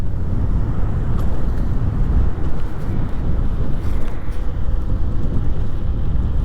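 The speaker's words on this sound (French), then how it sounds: "Il y a vraiment beaucoup de rafales de vent aujourd'hui" Strong gusty wind buffets the microphone on a moving dual-motor Geleipu Z1 Pro electric scooter, a loud, constant low rumble with no pause throughout.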